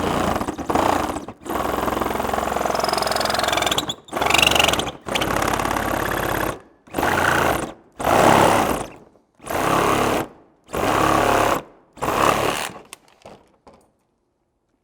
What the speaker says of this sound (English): I am going to finish that little bit off with the Sawzall